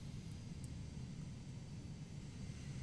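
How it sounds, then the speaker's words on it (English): Steady low propeller-plane engine drone in Microsoft Flight Simulator 2020 at North Eleuthera in the Bahamas, a continuous even rumble with faint hiss, no talk. "One of those prop planes."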